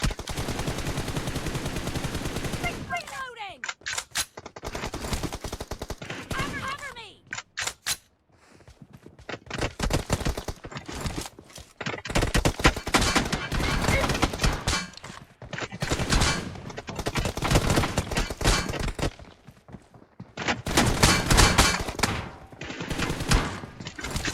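Long stretches of loud automatic gunfire from a PUBG-style shooter game, repeated rattling bursts separated by brief pauses, with occasional mechanical clicks between volleys.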